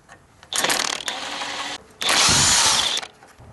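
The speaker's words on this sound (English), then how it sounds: "I'm going to take the ignition coil off and see what's going on." A power tool whirs in two loud bursts, pausing briefly between them, while removing the ignition coil from a lawn tractor engine.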